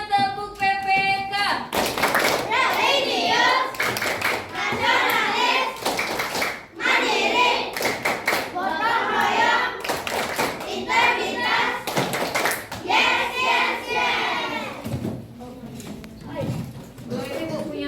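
A classroom of children performing the PPK clapping routine, rhythmic bursts of group hand claps in quick patterns, with children's voices chanting along and a teacher speaking between claps.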